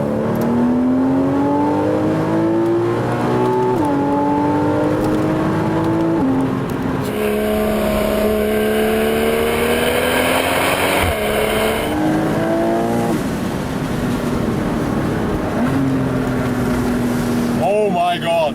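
A Porsche Boxster S 981 with PDK gearbox revs hard through several gears, its engine pitch climbing steadily, then dropping at each shift before rising again, loud and close throughout the run.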